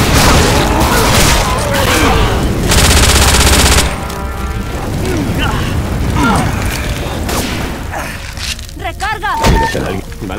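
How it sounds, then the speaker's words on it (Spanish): Dense machine-gun fire and gunshots in Left 4 Dead 2, loud and relentless for several seconds before easing into scattered shots, mechanical clatter and shouting voices. "¡Va un balazón!"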